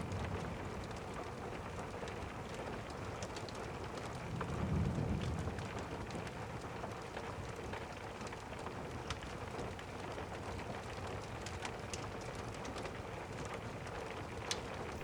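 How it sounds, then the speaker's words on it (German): Heavy rain and wind surround a mountain hut, a steady, soft hiss of rainfall with a brief swelling gust partway through, continuous and distant-sounding with no voices. "Das laute Rauschen des Regens und des Windes, der um die Hütte pfeift"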